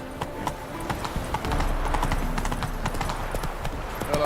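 Roach, a horse in the video game Witcher 3, trots with a steady, close clip-clop of hooves that carries on without a break.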